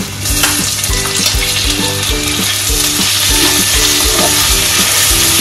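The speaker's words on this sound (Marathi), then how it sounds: "मला फ्राय केलेले व्हेजीस खूप आवडतात, म्हणून मी पहिले तर कांदा फ्राय करून घेऊया" Onions and mixed vegetables frying in a pan with a steady, loud sizzle, while a regular stirring or scraping rhythm pulses through it, close by with no talking.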